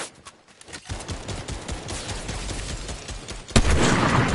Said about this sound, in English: you're shooting on me